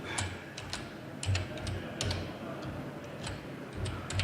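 Rapid clicking keystrokes on a mechanical keyboard come in irregular bursts, close and fairly loud, with brief pauses between clusters of key presses over a constant low room hum, and no voices.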